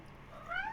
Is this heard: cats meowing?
yes